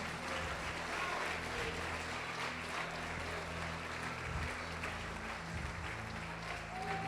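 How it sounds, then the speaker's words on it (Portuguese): A church congregation applauding, a steady wash of many hands clapping from a sizeable crowd that continues at an even level throughout, with organ or keyboard tones sustained underneath. "Você pode aplaudir o Senhor Jesus?"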